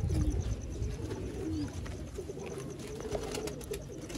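Pigeons coo softly nearby, with low throaty coos and a few light chirps over a faint, steady background rustle.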